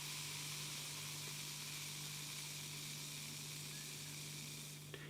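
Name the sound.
beer fizzing and hissing in glass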